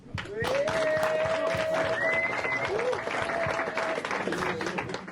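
An audience at a stand-up comedy show applauds steadily and loudly for several seconds, dense clapping with a few whistles and cheers rising above it.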